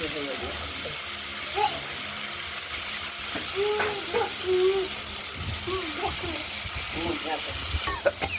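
Pumpkin strips frying in a wok of oil tempered with mustard seeds and green chilli give a steady hiss and sizzle, with scattered clinks of stirring and occasional voice sounds over it.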